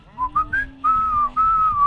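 A person whistles a bright, wavering tune in short phrases during a Dead by Daylight gaming session, close and clear, with no speech over it.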